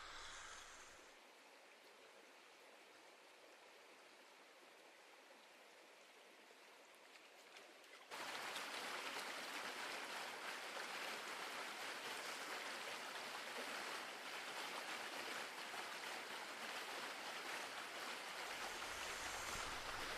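Flowing stream water, a soft distant rush that swells abruptly about a third of the way in to a louder, fuller continuous wash of moving water, steady with no voices.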